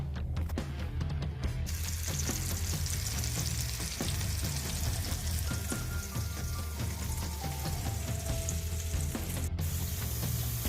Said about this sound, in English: green peppers and onion starting to sizzle here